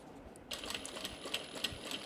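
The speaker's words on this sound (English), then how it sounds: "And just take your time with top stitching." A sewing machine top-stitches a fabric tote bag with a quiet, rapid mechanical chatter of the needle that starts abruptly and runs steadily, faint and close, with no talking.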